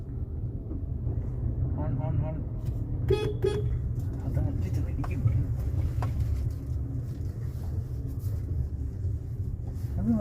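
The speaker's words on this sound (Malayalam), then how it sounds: "ഹോൺ" A car horn sounds in short toots during a driving lesson, amid engine and road noise, while an instructor talks over it.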